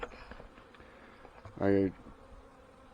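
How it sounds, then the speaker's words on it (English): Honey bees buzzing around the entrance of a nuc hive, a low continuous drone of many bees, briefly overlapped by a short, louder spoken syllable. "we have some bees hanging around on the front of it"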